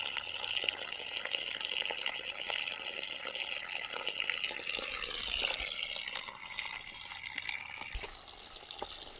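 Water seeping down from a source above and flowing outdoors in the historic city of Patan, Nepal, a steady close trickling hiss with small drips, continuous throughout and without talk.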